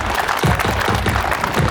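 An audience at a school reunion evening applauds steadily, with dense, loud clapping from many hands filling the whole stretch without pause.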